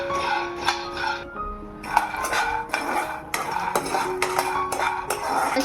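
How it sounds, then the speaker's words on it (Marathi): Peanuts being dry-roasted in a pan, heard as repeated bright metallic clinks and rattles of a spoon against metal, coming in quick irregular bursts close by, without speech. "सर्वात प्रथम आपण शेंगदाणे भाजून घेऊया"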